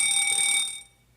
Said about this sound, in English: When he hears that fire alarm,